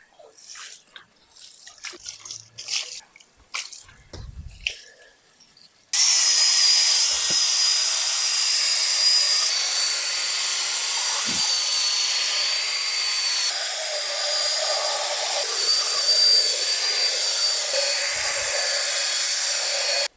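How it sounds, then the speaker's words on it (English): Water drips and splashes briefly, then a power drill with a brush spins up and whirs steadily, scrubbing car carpet with cleaning solution in a high-pitched buzz at close range. "Some carpet cleaning solution, drill with a brush, give them a scrub"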